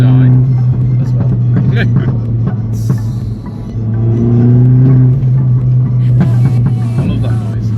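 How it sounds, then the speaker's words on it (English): A turbocharged Ford engine hums at a steady high pitch, swells and revs with a turbo-like whine, loud and close throughout, with a voice over it. "you can tell your turbo's open"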